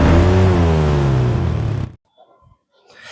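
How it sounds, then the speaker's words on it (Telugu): A motorbike carrying two riders on a road trip runs with a loud, steady engine drone for about two seconds, then cuts away to near silence with faint, scattered background noise. "సరేలే అని మామతో అలా బైక్ లో షికారు బయలుదేరాం"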